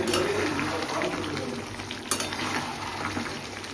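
Marinated mutton frying in a pan, a steady close sizzle with faint stirring and a light clink of utensils.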